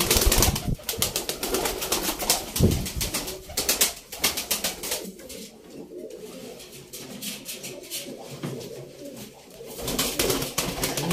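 Pigeons coo in low, throaty repeated calls, several birds close by, with occasional rustling and fluttering in between.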